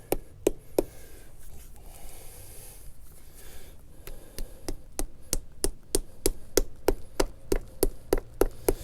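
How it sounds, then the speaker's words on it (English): Sharp wooden knocks from the back of a screwdriver handle driving anchors into a rotten door threshold, sparse at first, then a steady, fairly quick series of close taps. "A lot of times you can just use the back side of the screwdriver to knock"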